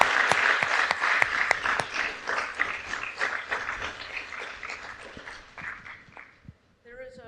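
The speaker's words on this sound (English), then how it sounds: "Lute, another round of applause" A lecture audience claps in sustained applause that swells and then fades over several seconds; a voice speaks briefly at the very end.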